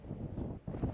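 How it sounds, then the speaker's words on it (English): Strong wind buffets the microphone on an open beach on Ameland, a steady low roar with gusts that dip briefly before surging back, filling the whole second with no voices. "It's very windy."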